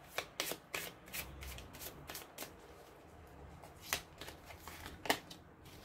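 Tarot cards are shuffled and handled close up in quick papery riffles and flicks, a run of soft snaps at the start and a few sharper slaps later, quiet and alone without talk.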